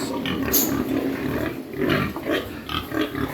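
A large boar at a pig farm grunts and snorts in repeated close, loud bursts, with a steady barn background underneath.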